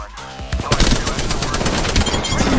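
Rapid automatic gunfire from a video game, Apex Legends, bursts of shots rattling continuously and loudly through the clip, with a brief voice at the start.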